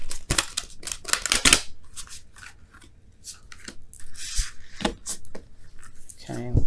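Tarot oracle cards being shuffled by hand, a series of close, crisp riffling and sliding bursts with brief pauses between them, heard alongside someone talking.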